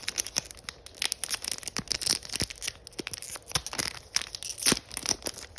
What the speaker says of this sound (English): They're kind of hard to open up. I might have to do it with my teeth.